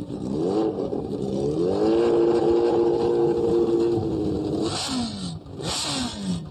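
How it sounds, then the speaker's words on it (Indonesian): Sport motorcycles and scooters with loud, noisy exhausts on the winding Lembang road, roaring continuously and fairly close, engine pitch rising and holding steady before a couple of quick revs near the end. "sepeda motor sport dan metik berknalpot bising"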